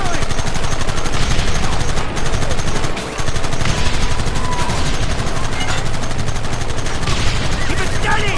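Dense, continuous gunfire from a Red Dead Redemption shootout, rapid repeated shots layered into a loud, steady barrage that barely lets up, with voices mixed in underneath.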